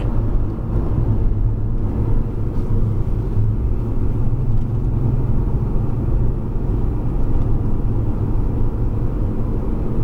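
A Porsche 911 Carrera S engine on a race circuit, a steady loud droning rumble heard from inside the car, holding fairly even throughout.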